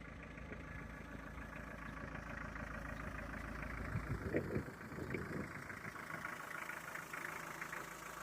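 A low, steady engine rumble idles continuously throughout, with a slight surge in the middle and faint background noise.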